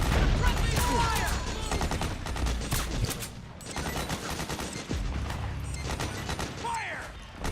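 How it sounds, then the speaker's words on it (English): Sustained automatic gunfire during a firefight in Metal Gear Solid 4, dense bursts of shots filling the scene at close range with battle noise throughout. "Suppressing fire!"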